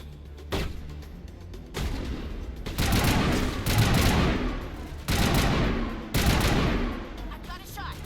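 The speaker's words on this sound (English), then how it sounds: "Shoot him." Gunfire in the video game Mass Effect, repeated heavy bursts and rapid shots in overlapping waves, loud and dense over several seconds, with game voices speaking under the shooting.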